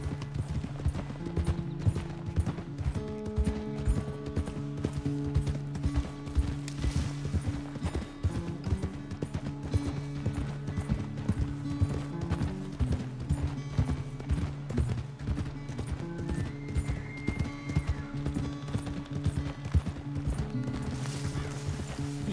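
A horse galloping across open ground in Red Dead Redemption 2: steady, rapid hoofbeats pound on throughout under a game music bed, with an occasional snort.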